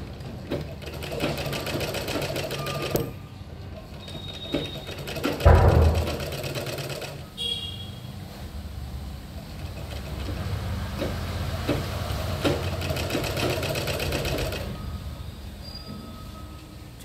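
Electric sewing machine stitching a double-layer garment body, running in a steady continuous whir with brief pauses and a short louder bump midway, close and alone without talk.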